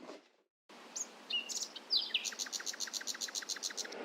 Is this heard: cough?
no